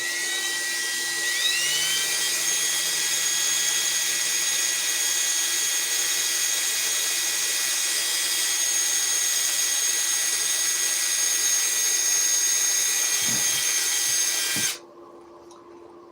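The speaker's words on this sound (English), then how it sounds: "take a small drill bit first, make your little starter hole" A small bit drills a starter hole in a plexiglass sheet, the drill whining at a steady high pitch for about fourteen seconds before cutting off abruptly, leaving a quiet hum.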